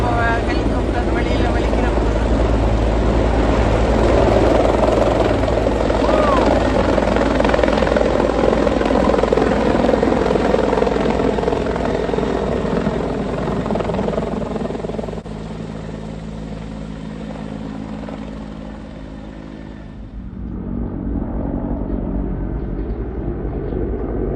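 A helicopter roars loudly overhead in Oslo with steady rotor chop and engine drone, easing off briefly near the end before the noise returns.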